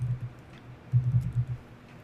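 Keys tap on a computer keyboard as a short Linux terminal command is entered, two quick clusters of soft, close clicks with a brief pause between them.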